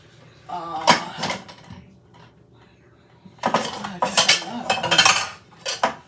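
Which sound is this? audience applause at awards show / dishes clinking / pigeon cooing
dishes clinking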